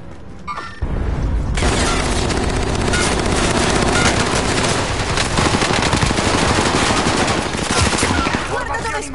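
Loud, dense automatic gunfire from the Call of Duty Warzone video game on PS4, sustained bursts and booming shots packed tightly together with barely a pause after a brief quiet start.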